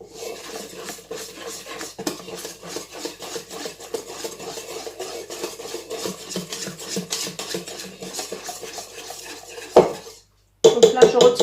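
A whisk scrapes and clatters steadily around a bowl as flour is mixed into pizza dough, with continuous rhythmic metallic stirring that stops abruptly near the end, then briefly resumes.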